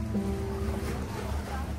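Boat at a pier at Gamboa in Bahia, Brazil, rocking on the water: a steady low wash and slosh with a faint droning hum, evenly loud for under two seconds.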